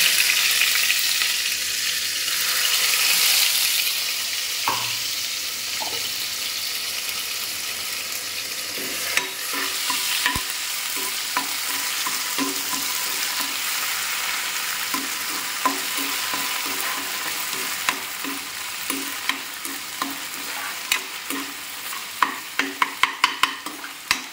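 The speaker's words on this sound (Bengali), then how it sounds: "তেলটা আছে সাদা তেল, এই যে আলু ভাজার তেলটা, এতে মশলাটা দেবো" Spices frying in leftover white oil from frying potatoes for a vegetarian biryani, a constant loud sizzle with ongoing stirring scrapes and a run of quick metallic taps near the end.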